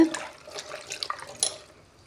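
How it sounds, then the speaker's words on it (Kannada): Chopped bottle gourd is washed with water in a clay pot, giving faint, brief splashes and sloshes in a few irregular bursts, with no voices. "ಮಣ್ಣಿನ ಗಡಿಗೆಯಲ್ಲಿ ಹಾಕಿ ನೀರು ಹಾಕಿ ಸ್ವಚ್ಛಾಗಿ ತೊಳ್ಕೊತೀನಿ"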